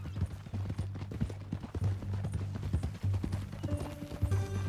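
Horse hooves clip-clopping in Red Dead Redemption 2, a steady rhythmic trot of hoofbeats over a low droning game ambience, with a brief tonal sound creeping in near the end.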